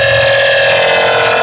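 A screechy synth layer built from Serum saw waves rings as a bright, steady, buzzing tone with a sweeping, slightly wavering texture, loud and continuous throughout.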